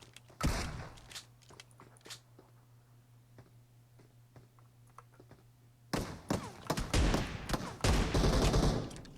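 Shooter-game gunfire erupts in sharp bursts near the start, falls to scattered quiet clicks and steps, then returns as a loud, rapid fusillade over the last few seconds.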